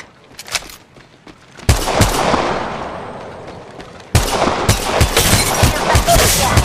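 Gunfire in the mobile shooter Apex Legends Mobile, with scattered early shots and then two loud sustained bursts of rapid fire, close and heavy.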